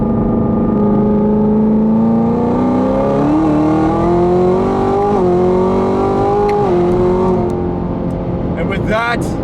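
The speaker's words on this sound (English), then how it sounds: "with that final acceleration run" A 1000-whp 2017 Camaro ZL1 pulling hard under acceleration, its loud engine note climbing steadily in pitch through the gears, with a brief shift dip before a final rise and fade. Someone talks over it.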